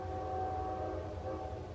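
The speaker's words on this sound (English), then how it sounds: "I hear the train approaching." A train horn sounds as the train approaches, sustained steady tones held over a low rumble for the whole stretch, fairly loud and unbroken.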